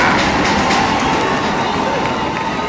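A home crowd at a Tygerberg versus Hamilton rugby match roars steadily in unison, a loud, sustained wall of cheering and chanting that fills the whole stretch with no break.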